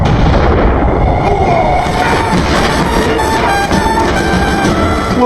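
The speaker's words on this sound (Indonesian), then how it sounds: "Kali ini kedua perampok amatir dan Harry sendiri yang menjadi korban baku tembak itu" Gunfire in a shootout scene from the crime film Lock, Stock and Two Smoking Barrels: loud, dense bursts of shots over a busy mix that stays intense throughout, with no clear talk.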